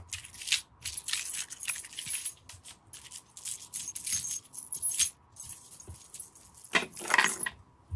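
Keys jangle and rattle in repeated bursts near a shoe rack at home, gathered as sound material for music production. The close, loud shakes come in an uneven rhythm, with a heavier clatter near the end and no talking.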